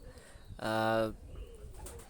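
Pakistani high flyer pigeons give a single clear, drawn-out coo lasting about half a second, close and fairly loud, amid quiet background noise and faint rustling.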